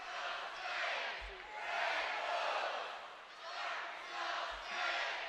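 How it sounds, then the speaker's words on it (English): Basketball arena crowd at a women's college game roars in rising and falling waves of chanting and cheering, distant and reverberant, swelling roughly every two seconds with a few low thumps underneath. "Listen to the crowd."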